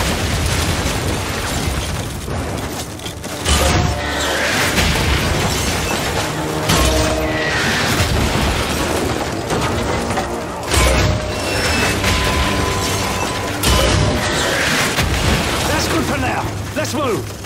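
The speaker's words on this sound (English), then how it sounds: "If it moves, put a mortar shell on it." Mortar shells blasting a village in Call of Duty Modern Warfare 3, repeated heavy booms every few seconds over constant battle noise and rumble, with voices shouting orders throughout.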